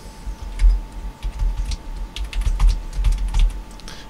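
Steady typing on a computer keyboard while a form name is entered in a WordPress front-end admin screen: a run of close, crisp key clicks in an irregular rhythm, with no voices.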